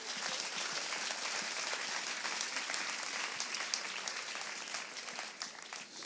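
A church congregation applauding and cheering for the Lord, dense continuous clapping from a large crowd throughout, loud and steady.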